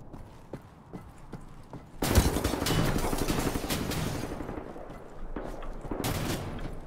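A rapid burst of video game gunfire from Wolfenstein: The New Order erupts and continues as sustained, dense shooting, with scattered single shots before it and another loud burst near the end.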